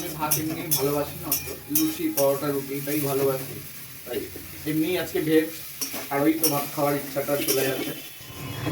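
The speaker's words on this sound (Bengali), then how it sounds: "এবারে এটাকে ভালো করে নাড়াচাড়া হোক একটু তেল ছাড়ুক" A spoon stirs and scrapes cauliflower frying in oil in a pan, with sizzling and clinks of utensil against metal, while a person talks over most of it.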